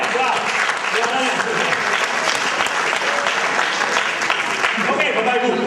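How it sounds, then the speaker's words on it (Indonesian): Sustained applause from a seminar audience fills the hall, dense and steady for several seconds, with a few voices mixed into the clapping. "1 triliun, tepuk tangan dulu"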